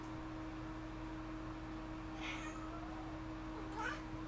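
A cat meows twice over a steady electrical hum and background noise, one call near the middle and a second, slightly louder one near the end.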